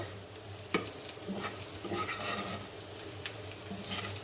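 Prawns and onions frying in a pan make a soft continuous sizzle with occasional light stirring taps, fairly quiet and without talk.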